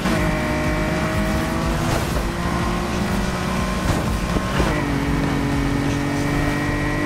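A Nissan R34 GT-R V Spec accelerates in the video game Need for Speed Heat, its engine droning loudly and steadily with rising pitch through several gear shifts.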